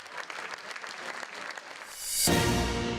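Audience applause after a stage show: a dense burst of clapping swells in near the end and holds loud and close, preceded by a quieter mix of scattered sounds.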